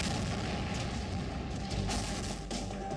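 Artillery fire in Russia–Ukraine war footage near Kyiv, a dense, continuous roar of heavy booms and rumbling blasts that stays loud throughout with no pauses.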